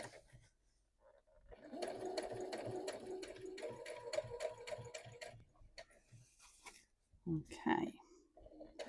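A sewing machine stitches over a jeans hem seam in a steady whirring run of several seconds, then stops and starts in short bursts, with a person talking softly nearby.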